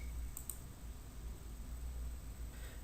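A mouse clicks the Submit button on an online event form, giving a quick pair of faint, crisp clicks near the start over steady background hiss.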